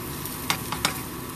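Anchovies frying in a pan, a short burst of steady sizzle with a few soft scraping strokes from a wooden spatula stirring them, close by.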